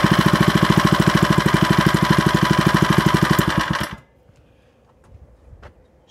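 Harbor Freight Predator 79cc engine fitted to an MTD wheel edger chugs loud and close in a fast, even putter for about four seconds, then shuts off abruptly, leaving a few faint clicks and rustles.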